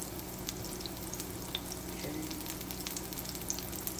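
Thawed plant-based burger patties sizzle in a pan with a quiet, steady frying hiss and scattered tiny pops, faint and continuous with no talking.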